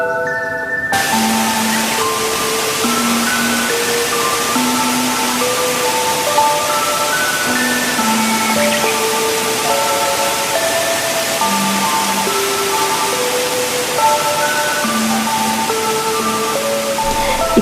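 Water flows steadily at Chimney Pool waterfall on Horton Plains, spilling over a small old dam as a continuous broadband rush, with gentle background music playing over it throughout.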